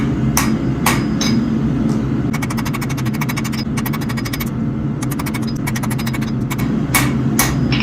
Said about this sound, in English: Pick the hammer up and let it drop.